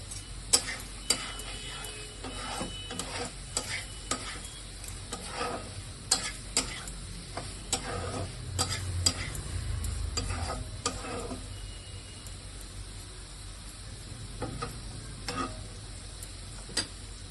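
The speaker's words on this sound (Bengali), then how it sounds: "ভালোভাবে কষাবো এর মধ্যে, মশলাটার মধ্যে। আর আমি এখানে 2টো কাঁচা লঙ্কা ফেলে রেখেছি, ওগুলো দিয়ে দিচ্ছি।" Spice paste frying with green chillies in a pan, a continuous sizzle under repeated scraping strokes of a spoon stirring close by, with no talking.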